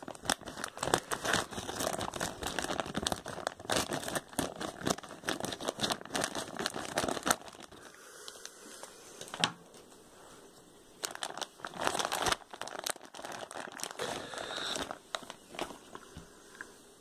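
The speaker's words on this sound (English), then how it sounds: "I'm going to cut it across the top" Scissors cut open a plastic bag of play sand, a run of close crinkling and snipping crackles, a brief quieter pause, then more rustling plastic.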